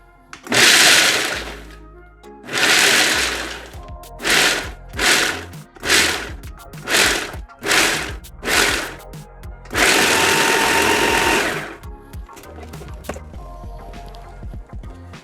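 A food processor chops baklava filling almost to a grind in a series of loud, close bursts. Two long runs open the sequence, several short pulses follow, and a long final whir comes near the end before it goes quiet.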